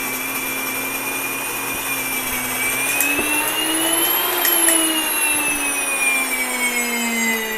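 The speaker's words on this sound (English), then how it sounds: "Okay, that wheat's just about done. Coming to the bottom. You'll hear the motor speed up." Electric grain mill grinding wheat, its motor whining loud and steady and then rising in pitch as the hopper empties.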